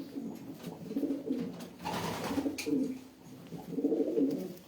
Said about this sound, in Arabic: حمام زوين ما شاء الله